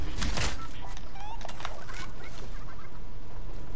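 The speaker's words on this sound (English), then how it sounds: "There's also a chicken?" A chicken in a video game gives a few quick clucks near the start amid busy game noise and shots, close and fairly loud.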